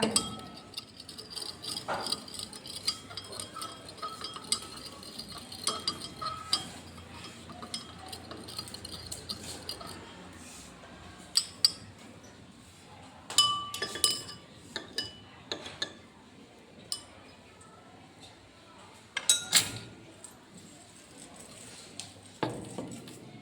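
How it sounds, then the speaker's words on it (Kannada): A glass rod stirs milk in a glass beaker, producing faint, scattered clinks and taps against the glass over a quiet background. "ಇದನ್ನು ಗಾಜಿನ ಕಡ್ಡಿಯ ಸಹಾಯದಿಂದ ಕಲಕೋಣ"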